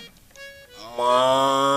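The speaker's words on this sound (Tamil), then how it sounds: "மாடு" A cow lets out a long, loud, close moo that swells and holds steady after some quieter background sounds, with no talking.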